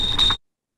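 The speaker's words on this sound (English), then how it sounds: "the sound of a tea kettle might tell you your patient's temperature is getting too high." A medical alarm tone modelled on a whistling tea kettle, signalling that a patient's temperature is too high, sounds as a single shrill, steady whistle for under half a second, then cuts off into silence.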